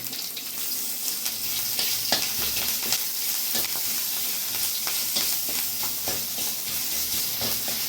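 Chopped ginger sizzles and crackles in hot oil with green chilli and salt, a steady close frying hiss with sharp pops and spatters throughout, no voices.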